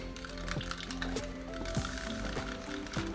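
Acrylic paint being stirred together with pouring medium in a cup: repeated close, wet squishy scrapes and clicks at an irregular rhythm, over a steady bed of soft tonal background music.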